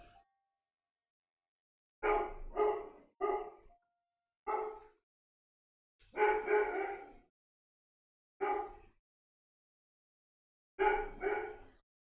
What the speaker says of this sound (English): He just heard me going out the front door. That's why he's barking.